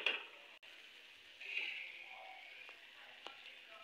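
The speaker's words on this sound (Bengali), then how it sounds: "মশলাটা আমি 2 মিনিটের মতন ভেজে নিচ্ছি।" Spice paste for a restaurant-style chicken curry fries gently on a low flame, a soft steady sizzle with faint stirring scrapes and a few light clicks throughout, no voices.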